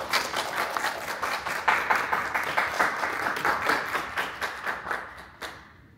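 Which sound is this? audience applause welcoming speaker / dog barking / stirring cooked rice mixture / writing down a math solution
audience applause welcoming speaker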